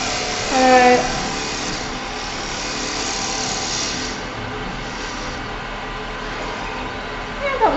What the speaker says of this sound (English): I'm going to try to do one more cut because I like to do just a nice bevel rubbing